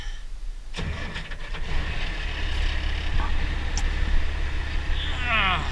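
A tractor engine on an IH 1086 cranks and catches, settling into a steady low rumble that runs on after a brief click and a few mechanical rattles.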